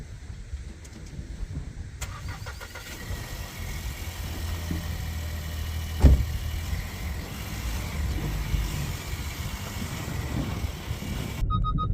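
A repaired salvage-auction car engine starts and runs steadily at a low idle as the car creeps along on flat tyres, a close mechanical hum with a brief knock partway through.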